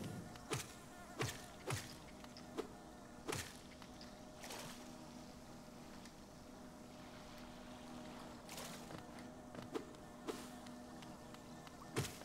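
Bees in the video game Hollow Knight buzz in a steady droning hum under scattered sharp game hits and effects, with no talking.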